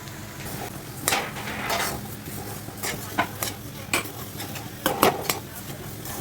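Half a kilo of coriander seeds dry roasting in a pan on a village kitchen stove, dry rustling with repeated spatula scrapes and metallic knocks against the pan, close and without talk.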